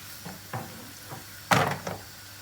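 A pan of cooked food with butter and oil being shaken: a few soft knocks and shuffles build to one louder rattling jolt, then a couple of quieter bumps, close by with no talking.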